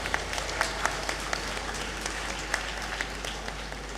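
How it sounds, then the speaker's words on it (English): Graduates applaud at a University of Ghana congregation ceremony in the Great Hall, giving a sustained, even round of many hands clapping at moderate distance with a few sharper claps standing out. "another round of applause for yourselves"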